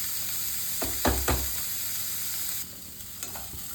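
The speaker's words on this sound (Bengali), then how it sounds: "দেখো এটা ভাজা ভাজা হয়ে গেছে, আমি একদম অল্পই তেল দিয়েছি।" A breakfast dish fries in a small amount of oil, a steady close sizzle broken by a few brief stirring scrapes, with no talk.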